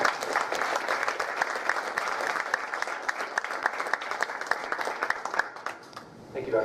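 A lecture audience on an evening about organic chemistry and chemical evolution keeps up steady applause for the speaker, a full, even crowd clapping that thins out near the end, with speech faintly present.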